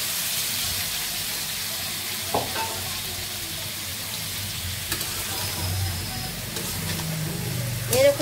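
Vegetable curry goes into a hot pan on a stove, giving a low, continuous sizzle and frying hiss with occasional stirring clinks, while faint household background noise hums throughout.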